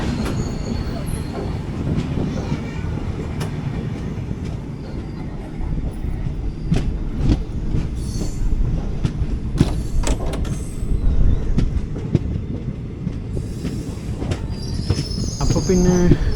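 Ernakulam Intercity Express passenger train beginning to roll out, a continuous rumbling of wheels and carriages with clanks, rattles and faint squeals throughout, with some voices in the background.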